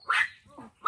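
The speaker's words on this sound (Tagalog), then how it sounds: "Ang ingin ng aso!" A dog at an outdoor picnic on a farm field gives a short, sharp bark followed by a softer second yelp, close and fairly loud.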